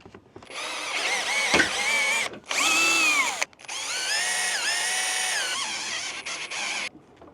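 A power drill bores into wooden cabin posts at an off-grid mountain cabin build, loud and close, running in several long whining bursts with brief pauses between them and pitch dipping under load.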